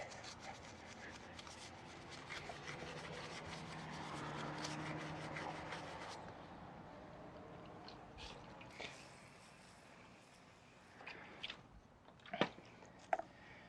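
A small detailing brush with a rounded point scrubs inside the barrels of a car wheel, giving close, steady rubbing and bristle scraping that fades after a few seconds into quieter scattered scuffs and a few sharp knocks.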